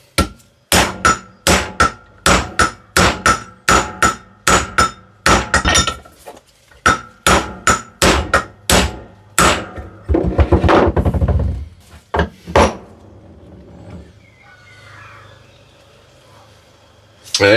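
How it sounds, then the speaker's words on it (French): Hammer blows strike a tool to press a car wheel bearing into place, a rapid series of sharp metallic clanks in steady rhythm, close and loud, then a denser flurry before trailing off into quiet. "Marteau."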